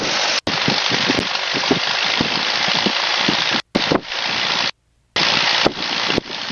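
A light aircraft engine roars steadily at high power during a magneto check run-up, a dense, loud buzz close in the cockpit. The sound cuts out abruptly a few times, then returns.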